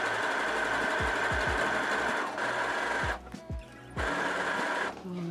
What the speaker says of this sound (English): then I think I can sew the side seams right sides together